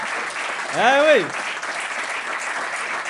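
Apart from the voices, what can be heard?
audience applause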